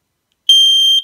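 A Nest Protect smoke alarm shrieks alone at close range, one sharp, loud, continuous high-pitched tone that starts abruptly and holds for about half a second.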